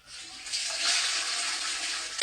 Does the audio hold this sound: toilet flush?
yes